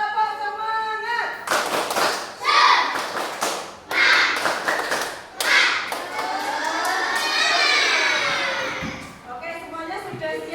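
Schoolchildren in a classroom perform a rhythmic clapping chant, with bursts of sharp claps in sets broken by loud group shouting and chanting voices, ending in a long sustained shout before a few scattered claps.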